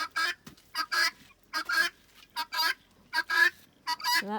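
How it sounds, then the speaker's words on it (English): Female guinea fowl calling among backyard poultry: a loud, close series of harsh two-part cries repeating in quick bursts, with no talking. "that's definitely a female guinea sound"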